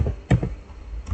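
Keys on a computer keyboard clatter as commands are typed into a Cisco switch setup: a quick burst of two or three clicks, then a pause before another faint tap, close and fairly quiet.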